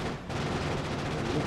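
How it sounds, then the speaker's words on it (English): Grenades exploding in Factorio Space Age, a dense continuous rumble of overlapping blasts and gunfire-like crackle, loud and sustained with a brief dip near the start. "throw a ton of grenades in there"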